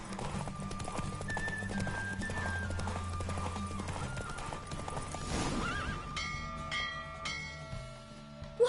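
A horse gallops at full speed during a race in the video game The Witcher 3, with steady rapid clip-clop hoofbeats, a whinny and bell-like music tones layered over it, and close, continuous motion throughout.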